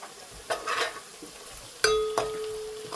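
A spatula stirs frying onions in a hot pan for a spicy Gujarati-style prawn dish: a few close scraping strokes over a soft sizzle.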